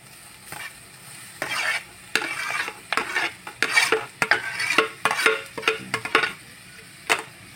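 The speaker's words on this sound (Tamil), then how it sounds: "போட்டு நல்லா மிக்ஸ் பண்ணி விட்டுக்கலாம்." A spoon scrapes and stirs a sizzling kohlrabi stir-fry (nookal poriyal) in a pan, irregular scraping strokes over a steady frying hiss, close up with no voices.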